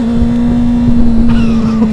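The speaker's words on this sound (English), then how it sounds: "just a little bit of throttle and" A 2009 Honda CBR600RR sport bike's engine holds a steady loud drone from close by under light throttle, with the pitch rising slightly near the end.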